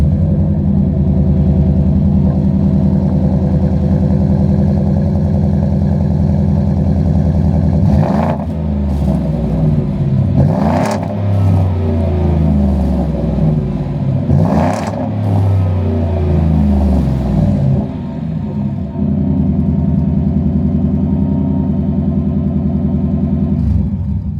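A Ford F-150 Tremor's 5-liter V8 exhaust idles with a deep burble, then revs sharply several times through the muffler before settling back to a steady rumble.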